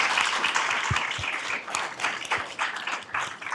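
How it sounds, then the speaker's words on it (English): An audience at a health and mental health infrastructure panel discussion applauds the panel with a dense, sustained burst of clapping from many hands that carries on for the whole stretch, fairly close and loud, with no speech over it. "A round of applause for our amazing panel."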